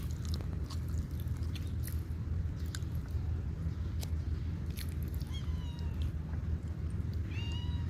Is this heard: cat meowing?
yes